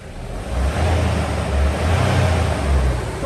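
A Mahindra BS6 Bolero Camper Gold or Pickup engine runs loud and close, holding a steady, rough idle that swells slightly in gentle rises as it is revved, with no voices over it.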